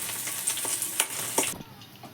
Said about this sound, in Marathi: आपण अशा मिरच्या तळून घेतोय